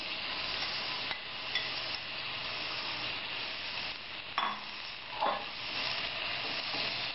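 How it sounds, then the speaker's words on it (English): Pineapple pieces fry in melted ghee in a deep frying pan, a soft steady sizzle with a few faint stirring scrapes and clinks, quiet and close with no talking. "And fry the pineapple for some time."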